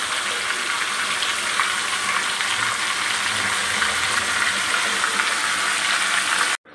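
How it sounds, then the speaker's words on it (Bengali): Chicken pieces frying on high flame for a Kolkata-style chicken biryani, a loud, dense, steady sizzle with stirring close by that stops abruptly at the end. "এগুলোকে হাই ফ্লেমে একটু ভালো মতন কষাবো"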